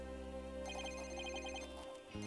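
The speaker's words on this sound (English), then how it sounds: "Where's that that ringing coming from?" A telephone ringing in the video game Ace Attorney: Dual Destinies, a short repeating electronic ring tone over a sustained game music bed.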